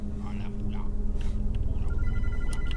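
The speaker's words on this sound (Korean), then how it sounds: "전화 소리가 들려." A telephone rings upstairs in a horror video game, its bell tones thin and intermittent beneath steady game ambience and voices talking.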